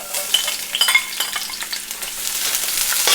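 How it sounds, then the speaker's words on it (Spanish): Onion hitting hot oil and frying, a bright close crackling sizzle that builds steadily, with light clicks of a utensil in the pan. "ya vamos a dorar la cebolla"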